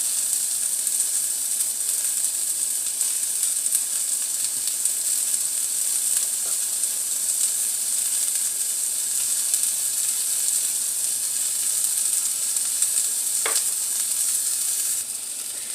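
A patty frying in a small amount of oil in a pan gives a continuous, even hiss and sizzle heard close up, with one brief clink partway through and no talk.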